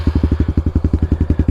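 Honda Trail 125 motorcycle with a Yoshimura exhaust, swapping between open pipe and spark arrestor, idling close by with a loud, steady, rapid thumping exhaust pulse, no voices over it.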